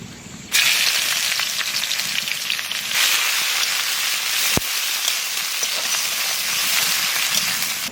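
Chopped onions and whole spices, cloves, cinnamon and cardamom, drop into hot oil and break into a loud, steady sizzle that crackles close by without pause, with a brief clink partway through.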